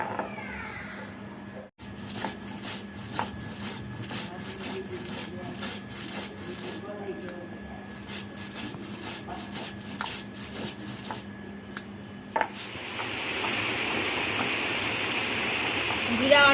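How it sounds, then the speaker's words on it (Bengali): Soaked raw white cumin seeds ground into paste on a stone, with a steady back-and-forth scraping rhythm of repeated rubbing strokes, close and moderately loud, growing rougher near the end. "এই জিরেটাকে কাঁচা জিরে বেটে নেবো"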